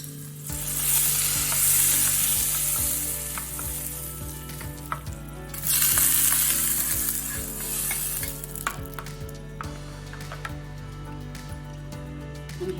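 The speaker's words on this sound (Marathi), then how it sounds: "फोडणी आपल्याला त्यात ओतायची" Hot tempering is poured into a toor dal curry and erupts in a loud, close sizzle. A second fierce burst of hissing follows partway through, with steady crackling frying in between and afterwards.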